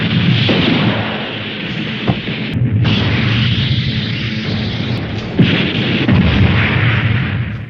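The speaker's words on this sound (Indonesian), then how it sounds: "Dengan senjata jenis RPG dia menghancurkan semua bangunan yang ada di tempat itu." RPG explosions destroying buildings in a war story, heavy rumbling booms and blasts layered into a continuous loud roar, with sharper impacts standing out near the middle and later on.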